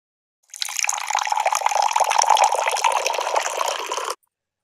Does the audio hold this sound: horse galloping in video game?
no